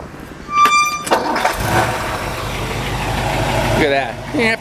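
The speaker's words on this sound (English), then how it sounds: "Go ahead and fire this one up for you." A 1957 Ford Thunderbird roadster engine cranks and catches, then settles into a steady, smooth idle close by, with a final brief rev near the end.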